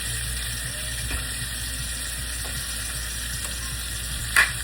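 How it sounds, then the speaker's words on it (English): Steak sears in a hot pan, a steady, loud sizzle continuing throughout, broken by a few faint ticks and one brief sharp crackle near the end, with no voices. "I kind of even it out so that you get a real good sear on that top"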